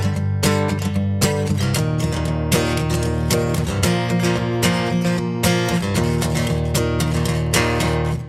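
One guitar strums the outro chords of a song at full tempo, making a dense, full, driving sound with steady rhythmic attacks and nobody speaking.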